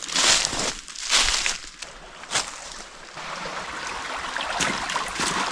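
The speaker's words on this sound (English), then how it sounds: "It's the first creek we crossed." Mountain creek crossed along a hunting trail, flowing with a close, rushing wash of water that swells and dips, joined by occasional crunches of footsteps, with no voices.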